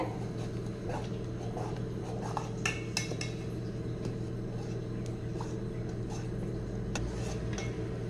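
A metal spoon stirs sweet pongal with jaggery syrup in a pot, giving scattered clinks and scrapes against the rim over a steady low hum, close and fairly quiet.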